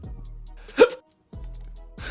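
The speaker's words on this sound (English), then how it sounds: "I got hiccups." One sudden, sharp hiccup comes from a person between stretches of a low motor hum, probably a massage gun. It is close and clear, with no talk.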